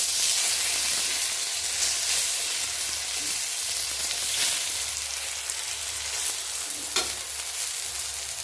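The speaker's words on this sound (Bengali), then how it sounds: "এখানে গ্যাসের মধ্যেই পটলটা ভাজতে বসিয়ে দিয়েছি" Pointed gourd frying in oil in a pan on a gas stove, a steady close sizzle and crackle running throughout with occasional stirring clatter.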